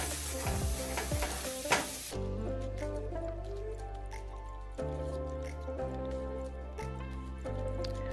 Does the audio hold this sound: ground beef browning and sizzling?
yes